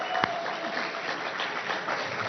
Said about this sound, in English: Let's have a big round of applause for Bill Willingham.